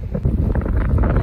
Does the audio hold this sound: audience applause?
no